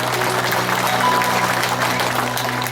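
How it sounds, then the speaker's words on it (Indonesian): An audience at a spiritual gathering on family life and Shiva Tantra teachings claps in steady, dense applause, loud and continuous over a low humming background. "Tepuk tangan."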